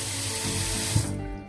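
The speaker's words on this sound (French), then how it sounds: "je vais rincer ma casserole" Steady rush of running tap water spraying into a pot as it is rinsed, loud and close, cutting off near the end.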